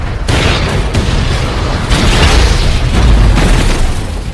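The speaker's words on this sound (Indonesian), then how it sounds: "bahkan meledakkan bom yang dipasang dari jauh-jauh hari" A bomb explodes in the zombie film I Am Legend, a loud, rolling blast with heavy booming bursts that swell again and again over a continuous low rumble, with no voices.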